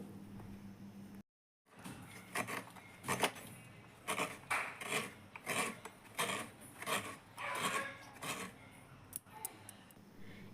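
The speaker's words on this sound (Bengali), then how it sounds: "এখন নারকেলটাকে খুব ভালো করে কুড়নির সাহায্যে আমি কুড়ে নেবো" Coconut grated on a traditional kurni scraper, a rapid series of close rasping scrapes in steady rhythm after a brief silence, fairly quiet.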